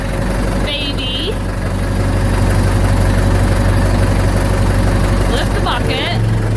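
Ford 755 B backhoe engine idling after a cold start, a steady loud low-pitched rumble throughout with brief bird-like chirps and a voice near the end.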